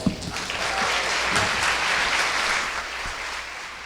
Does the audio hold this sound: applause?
yes